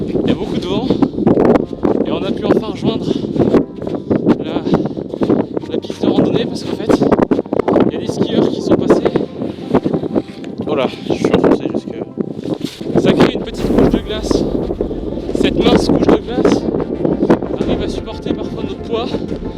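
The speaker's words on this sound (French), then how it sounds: "Il y a beaucoup de vent" Strong wind gusts buffet the microphone outdoors in Swedish Lapland, a loud continuous roar with surging rushes throughout, and people talk over it.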